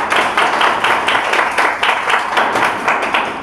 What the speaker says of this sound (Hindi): और सपना के लिए सबसे पहले जोरदार ताली